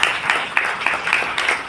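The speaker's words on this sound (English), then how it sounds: "let's have a bigger round of applause for that" A press meet crowd breaks into applause, a brief burst of many hands clapping with sharp taps over a continuous patter, moderately loud and close.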